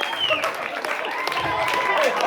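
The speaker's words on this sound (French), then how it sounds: "On peut les applaudir s'il vous plaît." Brief applause from an audience after a hypnosis stage show, a short burst of clapping under crowd chatter and excited voices, fairly close and moderately loud.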